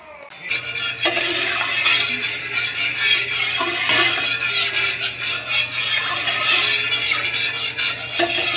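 Garam masala (cinnamon, cardamom and bay leaves) stirred in hot oil in a pot, with continuous loud scraping and clinking of a spoon against metal over a faint sizzle and a steady low hum.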